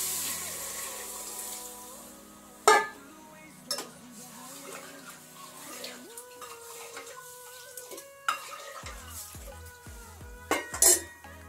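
Dal is fried in a pan in a home kitchen, with soft sizzling and stirring, scattered clinks of utensils against the pot and a few sharper knocks, fairly quiet, under occasional talk.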